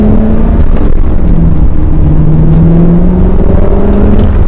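Corvette driving seen from the driver's seat, a steady, loud engine drone and road roar with shifting engine pitch throughout, no talking.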